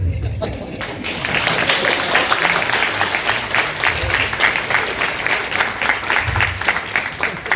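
A crowd claps steadily for a Hindi comedic poet at a Hindi Pakhwada event held by the Bureau of Indian Standards. The applause is loud and dense and runs for about seven seconds after a brief quiet start.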